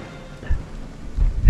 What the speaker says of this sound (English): Where's the lightning coming down?